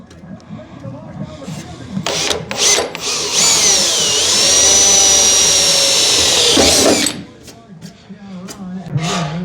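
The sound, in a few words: drilling a 1/8 inch pilot hole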